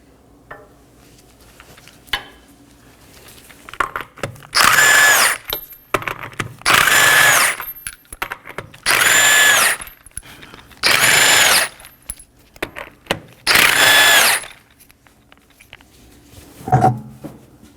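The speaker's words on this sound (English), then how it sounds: "I'll be using a 21mm socket to remove the 5 lug nuts." A power tool with a 21mm socket spins off lug nuts from a Nissan Maxima rear wheel in five loud, evenly spaced whirring bursts, each about a second long, with small clanks between them.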